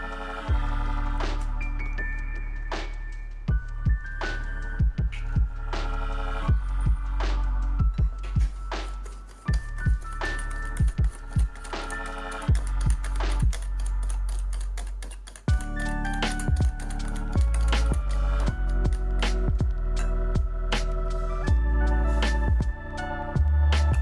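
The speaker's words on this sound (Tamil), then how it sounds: "சர்க்கரை கரையிற வரைக்கும் நல்லா கலக்கிக்கலாம்." Eggs and sugar whisked by hand in a bowl until the sugar dissolves, a steady run of quick, close clicking taps against the bowl's side that continues throughout with only brief pauses.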